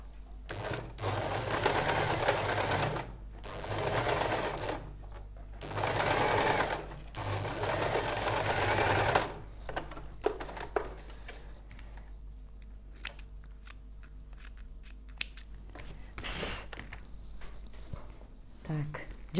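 A sewing machine stitches a seam on a staple-fabric dress in steady whirring runs that stop and start over the first half. Quieter handling noises follow, and a voice talks in the background.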